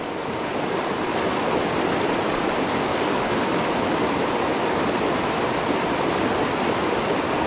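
Steady broadband rush of river water flowing past at close range, a continuous even wash with no voices, where a temporary cooler is set in the cold current.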